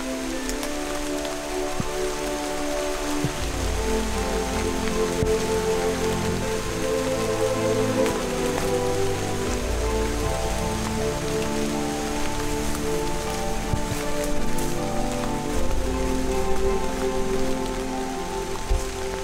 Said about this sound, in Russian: Уже приличное время идет дождь